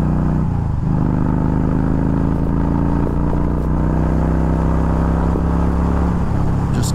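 A Yamaha V Star 1300 motorcycle engine runs loud and close, revving steadily with a throaty, sustained drone and small shifts in pitch.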